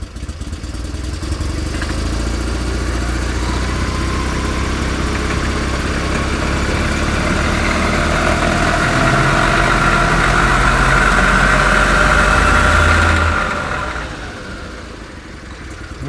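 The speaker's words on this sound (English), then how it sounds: "that all seems to be operating perfectly. A bit less squeal going on now, perhaps." An Invacar engine idling with a slackened belt, a steady loud mechanical drone with a faint high squeal running through it, easing off toward the end.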